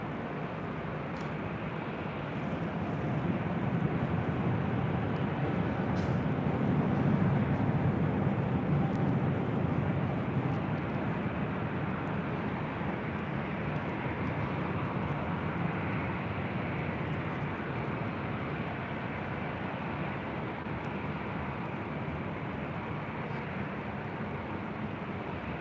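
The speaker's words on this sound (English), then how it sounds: "This is Delta Airlines 290 Heavy taking off" Delta Airlines 290 Heavy, a large jet, takes off at LAX, a broad, steady roar heard from a distance that swells gently and then holds as a sustained rumble with no talk over it.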